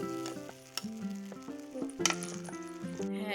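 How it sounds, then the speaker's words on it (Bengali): A ginger and cumin paste fries and sizzles in a pan as it is stirred. There are occasional light clinks of a utensil against the pan, with music playing underneath. "নেওয়ার পরে এটা আমি ভালো করে মশলাগুলো কষিয়ে নেব।"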